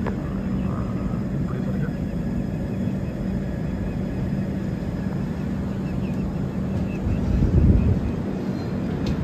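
Prasanthi Express train pulling out of Annavaram station, heard from inside a first-class AC coupe as a steady low rumble and hum that swells slightly near the end, continuous and without talking.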